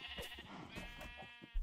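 Sheep bleat in a Minecraft-style game: a couple of quiet, wavering animal cries overlapping one another, with a soft thump at the end.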